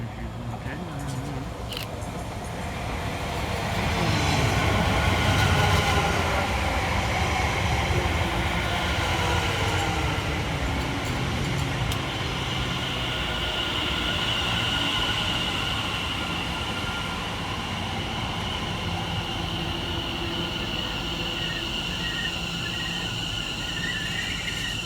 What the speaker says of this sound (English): Arriving next into the station will be 710-129 and 710-118, working the 1113 London Overground service from London Liverpool Street